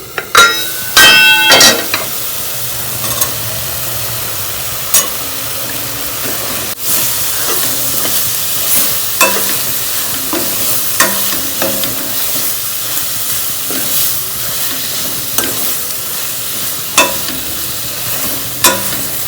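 Homemade paneer, about 200 grams, is stirred into cooking palak spinach for a dhaba-style dish. A loud, steady sizzle runs throughout, broken by close spoon scrapes and knocks against the pan.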